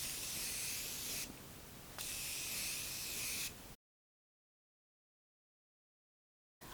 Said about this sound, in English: And I'll just mist this.